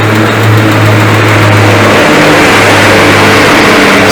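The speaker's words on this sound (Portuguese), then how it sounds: "Esse carro reclama de uma batida de válvula, como vocês podem ouvir, ó." A 2010 Citroën C3 with a 1.6 16-valve automatic engine and a valve knock runs loud and close, holding a steady hum that shifts in pitch partway through.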